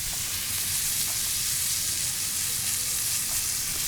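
Butter and smashed garlic cloves sizzle in a frying pan while a steak is seared, a loud, continuous, close crackling hiss with no talking.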